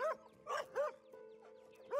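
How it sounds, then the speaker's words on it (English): Dogs on a neighborhood walk, including a golden retriever, trade short, faint barks and yips in a quick back-and-forth, a few seconds apart, with a steady low hum underneath. "They will bark at one another until the end of time"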